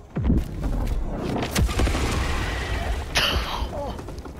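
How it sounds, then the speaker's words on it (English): Precision strike in Helldivers 2, a sharp close blast early on followed by further booms and a sustained roar of debris and combat noise, with brief voices mixed in. "Incoming precision strike."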